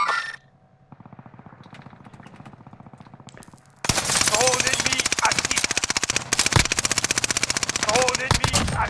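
Rapid automatic gunfire in Call of Duty Warzone on the Fortune's Keep map, first a quieter distant rattle, then a sudden loud, close burst of sustained machine-gun fire with sharp shots continuing to the end.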